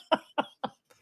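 Three sharp coughs in quick succession, close and fairly loud, followed by a faint short breath after a pause.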